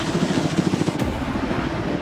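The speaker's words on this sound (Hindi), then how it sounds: "ये हेलीकॉप्टर हमारे बॉयज को ऊपर हवा में ले जाएगा, जिसके बाद वो एक एक करके समुद्र में कूदेंगे।" A helicopter flying over the sea near a private island, its loud, steady rotor thump and engine roar filling the whole moment with no talking.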